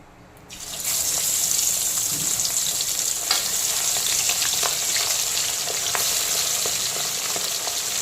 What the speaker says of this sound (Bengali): লবণ হলুদ মাখানো পমফ্রেট মাছগুলোকে একে একে আমি তেলের মধ্যে দিয়ে দেব